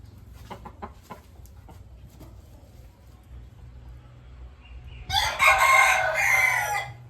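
A fighting rooster crows loudly once near the end, a harsh drawn-out call after several seconds of quiet rustling and low background hum.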